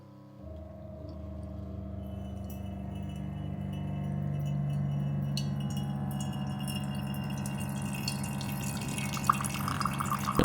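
Water from a Waterdrop reverse osmosis dispenser with an instant hot water function drips and trickles into a jug, a steady close stream that grows slightly louder and more splashy toward the end, with no talking.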